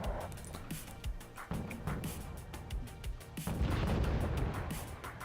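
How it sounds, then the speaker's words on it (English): Mortar and artillery fire in the Wargame Red Dragon strategy game: repeated booming launches and impacts, some distant and some louder, layered over a dense, rumbling battle ambience with no talk. "Good use of mortars from those guys though."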